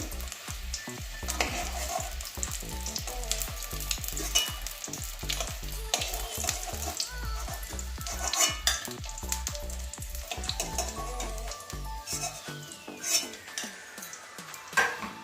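Fish roe frying in oil in a pan, continuous loud sizzling broken by repeated scraping and clinking of a metal utensil against the pan, no voices, the sizzle thinning near the end.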